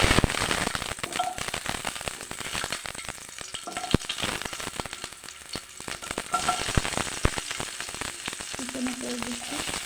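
Whole onions sizzling and crackling in hot oil in a pan for a masoor lentil dish, a steady close frying hiss with scattered pops, no talk.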